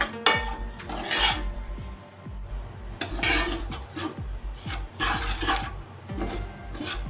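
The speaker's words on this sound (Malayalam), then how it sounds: "റവ നന്നായിട്ട് റോസ്റ്റായി വരുന്നുണ്ട്." Semolina being dry-roasted in a pan for sweet kesari, a steady scraping and rasping of a spatula against the metal pan with repeated clinks and stirring strokes, close and fairly loud, with no voices.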